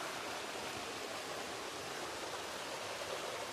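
A river on the Isle of Man flows in a steady, broadband rush, constant and unbroken throughout, fairly distant and soft with no voices over it.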